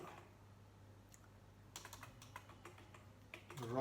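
Computer keyboard being typed on while entering Java code, a quiet run of close, crisp key clicks in irregular bursts, silent at first and growing busier toward the end.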